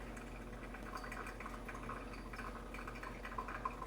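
Water poured steadily over coffee grounds in a pour-over brewer, a soft continuous trickle with faint dripping, quiet and close, with no one talking.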